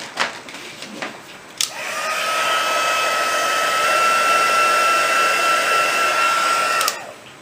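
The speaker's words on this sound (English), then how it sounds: "so let's heat set that." A heat gun blows steadily while setting embossing powder on a stamped card, a loud, even whirring hiss that starts after a couple of seconds and runs unbroken for about five seconds before cutting off, with no talk over it.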